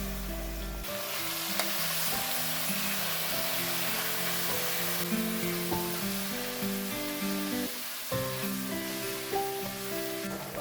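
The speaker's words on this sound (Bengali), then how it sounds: "মিডিয়াম ফ্লেমে ভাজছি," Mushrooms frying in a pan over a medium flame for a curry, a continuous close hissing sizzle with occasional stirring, heard alone without voices.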